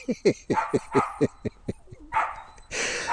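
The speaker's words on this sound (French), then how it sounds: "vous n'avez pas le droit de demander à ce chien d'arrêter d'aboyer" A dog barks in a quick series of sharp, close yaps, then pauses briefly before a few more barks and a noisy burst at the end.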